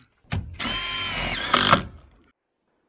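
A power drill drives fasteners into the drip edge of a standing seam metal roof: a close, steady whir for about a second, then a sharper surge as the screw seats before stopping.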